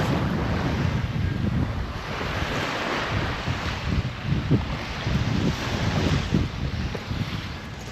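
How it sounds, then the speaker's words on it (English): Surf rolls onto a long beach in the Bahamas, a broad continuous wash of breaking waves mixed with heavy wind buffeting the microphone, loud and steady with no voices. "this is a long stretch of beach and people are out here already"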